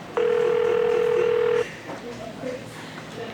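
A steady electronic telephone dial tone holds for about a second and a half, loud and unbroken, then cuts off and quiet talk follows.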